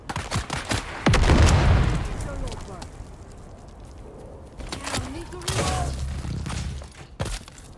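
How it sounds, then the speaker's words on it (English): Grenade explosions in the sci-fi game Dune Awakening, heavy booms with crackling debris amid gunfire and combat noise, and a voice talking between blasts. "That's a grenade."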